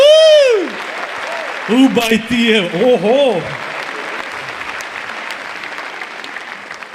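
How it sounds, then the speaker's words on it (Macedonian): Applause from the audience at a stand-up comedy show, clapping loud at first and then settling into a steady patter, with someone speaking and exclaiming over it partway through. "Мислам аплауз, не друго"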